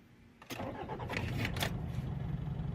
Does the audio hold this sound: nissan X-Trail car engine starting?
yes